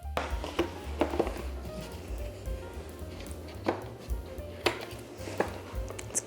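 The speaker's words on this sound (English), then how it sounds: "Let's cut into it a little bit." A knife cuts into a cooked beef roast on a board, with a run of soft slicing scrapes and several sharper taps against the surface, close and fairly loud, no talking.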